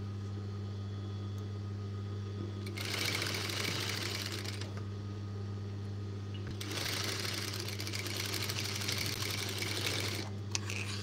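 A sewing machine stitching a girl's baby shirt runs in two rapid mechanical bursts of needle chatter over a constant low electrical hum, with brief pauses between runs.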